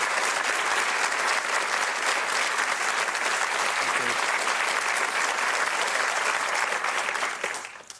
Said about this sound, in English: Nice applause for you, Mandy.